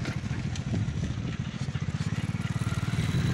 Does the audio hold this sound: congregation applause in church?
no